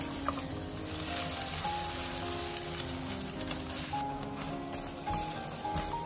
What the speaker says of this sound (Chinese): 煎至另一面定型。